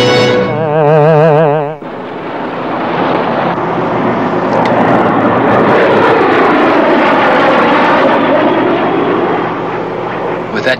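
Jet aircraft roaring overhead in a radio drama, a sustained loud broadband rush that swells and holds for several seconds after a brief warbling tone, fading slightly at the end.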